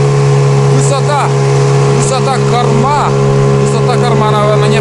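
An outboard motor drives a boat along a river, its engine droning steadily and loudly close by, with surging pitch swells as the boat lurches forward in jerks.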